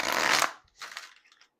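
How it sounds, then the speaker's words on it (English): Tarot cards are shuffled by hand in a quiet room: one loud riffling burst, a short pause, then a softer second riffle that trails off. "One more shuffle."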